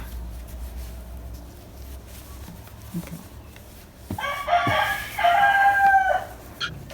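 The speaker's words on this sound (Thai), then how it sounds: "แต่ละวันทำงานนี้เสียงไก่จะดัง" Many backyard chickens cluck and a rooster crows nearby, faint scattered clucks at first and then a loud, drawn-out crow that dominates the last few seconds, with no speech.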